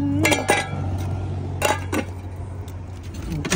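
A rice cooker being lifted out of trash gives a few sharp metallic clanks and rattles, loud and close, separated by a quieter stretch.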